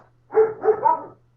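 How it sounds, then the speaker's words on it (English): Hunting dogs bark in a quick run of three muffled, close woofs, heard alone against a low steady hum. "Those are my hunting dogs"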